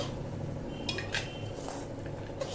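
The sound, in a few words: scooping chutney into a bowl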